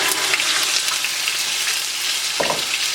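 Onion frying in a little hot oil for chicken daal bukhara, a loud, close, steady sizzle with a brief stirring knock near the end and no talking.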